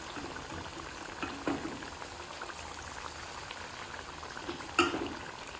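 Chicken pieces fry in a pan for Indo-Chinese Schezwan chicken, giving a steady soft bubbling sizzle throughout with two brief louder pops, no voices.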